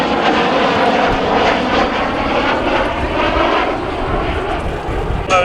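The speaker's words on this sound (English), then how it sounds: "from the right, the Super Hornet inverted whisper pass." F/A-18 Super Hornet jet making an inverted low, quiet pass at an air show, a loud, continuous roaring rush of engine noise that holds steady throughout.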